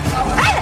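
A child imitates a dog, letting out a short, loud, yelping bark-like cry up close that lasts under a second.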